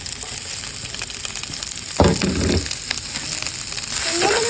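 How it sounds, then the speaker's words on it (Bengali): Chopped onion, chili and garlic fry in hot oil with a steady, close sizzle. A sharp burst at the midpoint swells into louder crackling, and a bright hiss rises near the end. "তেল গরম হয়ে গেছে তো প্রথমেই দিয়ে দিচ্ছি পেঁয়াজ কুচি তারপরে দিয়ে দিচ্ছি মরিচ কুচি ও রসুন কুচি"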